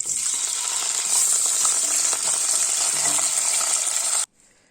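Meat sizzles loudly in a hot pan, a close, steady hiss of frying that cuts off abruptly near the end, leaving only a faint residual sizzle.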